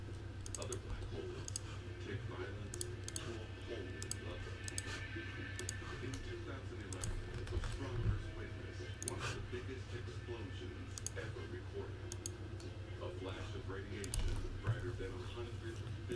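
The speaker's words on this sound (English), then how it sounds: "Let's go and shuffle them up 15 times." A pack of 2015 Leaf Best of Football trading cards being shuffled by hand at a table, soft repeated riffling clicks and flicks in a steady rhythm over a low background hum, with no talking.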